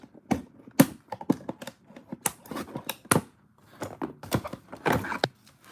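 Crisp snipping and clicking of scissors cutting toy packaging, a rapid irregular series of sharp cuts and crinkles close by, with no talking.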